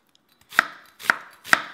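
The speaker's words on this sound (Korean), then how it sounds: "양파는 채 썰어주시고" A kitchen knife slices an onion into thin strips on a cutting board while cooking cream pasta, three crisp, evenly spaced chops ringing out close and clear against near silence.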